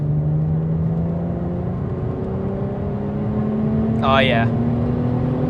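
A supercharged 2017 Holden VF SV6 engine accelerating, a steady droning hum with rising pitch sweeping through the gears, heard from inside the cabin with someone speaking briefly over it.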